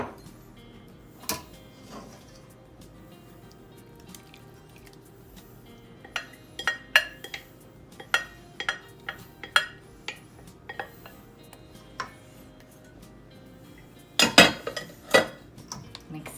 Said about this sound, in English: Mix everything well